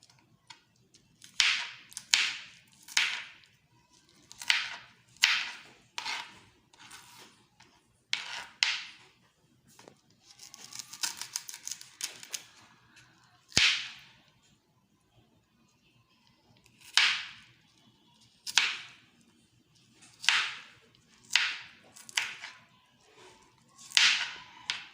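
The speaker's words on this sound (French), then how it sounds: "on va découper nos gombos en tout petits morceaux" A knife cuts okra into small pieces on a board: a quiet, rhythmic series of sharp slicing strokes in short bursts with pauses between.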